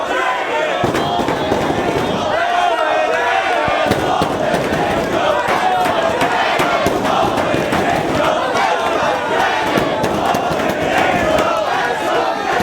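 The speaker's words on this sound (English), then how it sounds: "The crowd here on Long Island giving Christopher Daniels the energy he needs to keep going" A large wrestling crowd on Long Island roars and cheers loudly and continuously through a live match, a dense, steady wall of voices with scattered shouts and no single speaker standing out.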